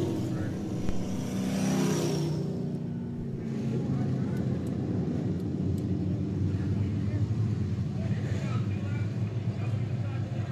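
Race cars roll down the backstretch at pace speed toward the green flag at a short-track event, a steady broad engine rumble heard from a distance that stays even throughout, with a commentator talking over it.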